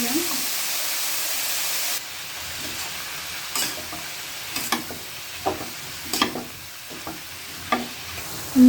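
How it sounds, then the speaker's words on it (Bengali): Leafy greens frying in oil in a pan, a steady sizzle with intermittent stirring clatter and scrapes, fairly close, with no talk. "তেলের মধ্যে আমি দিয়ে দেবো ভেজে"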